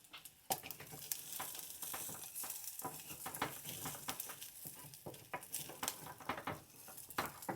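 Rice and onions stir in a hot pan with a soft, crackling sizzle and repeated scraping strokes of a spoon, close but fairly quiet, with no talking.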